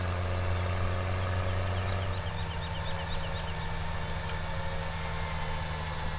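A farm tractor engine runs at a steady low drone as it drives home, a continuous rumbling idle-like hum with no speech over it.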